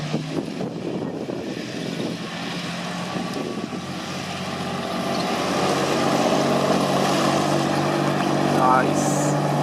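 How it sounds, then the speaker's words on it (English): A34 Comet tank with its Rolls-Royce Meteor engine running, a loud continuous mechanical roar that swells and grows heavier in the second half, with voices talking underneath at first. "So here's the Comet. This is a raw meter engine."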